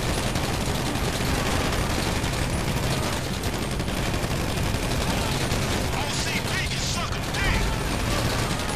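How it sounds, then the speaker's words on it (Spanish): Rapid gunfire from a shootout in GTA V Online, dense and continuous at steady loudness throughout, with bursts blending into a constant crackling wash. "Si hay que empezar el tiroteo, se empieza el tiroteo."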